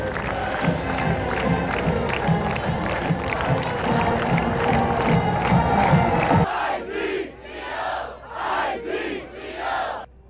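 A loud college basketball crowd at Michigan State's Izzone campout roars and chants while the Sparty mascot pumps them up, rhythmic bursts of cheering and shouts giving way to pulsing, swelling chants.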